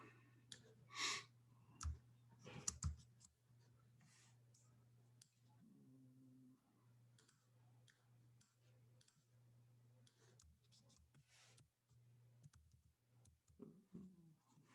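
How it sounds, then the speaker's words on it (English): Computer keyboard clicks and keystrokes during a recorded online class, a few sharp, loud clicks early on followed by sparse, quieter tapping over a low steady hum. "My keyboard."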